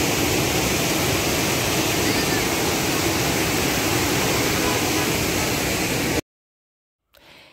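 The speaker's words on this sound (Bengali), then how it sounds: "রক গার্ডেনের ঝর্ণার আওয়াজটা তো শুনলে" The waterfall at Rock Garden in Darjeeling roars as a loud, dense, unbroken wash of falling water for about six seconds, then cuts off abruptly before a faint sound returns at the end.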